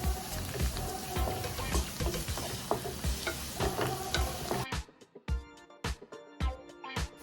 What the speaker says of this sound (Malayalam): എന്നിട്ട് ഇത് നല്ലതായിട്ട് ഇളക്കി മൂപ്പിച്ചെടുക്കണം